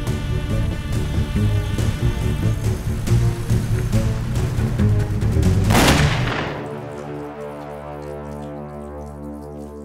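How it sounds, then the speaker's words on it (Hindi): Rapid bursts of gunfire in a Hindi-dubbed South Indian action film, loud repeated shots building to a heavy blast, then giving way to sustained musical tones. "अरे इस जेम्स बॉन्ड के पास तो गन भी है यार"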